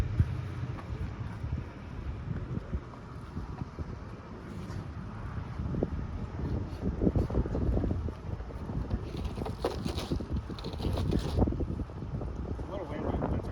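Gusty outdoor wind buffets the microphone beside a boat, roaring steadily with louder surges, while someone speaks intermittently over it.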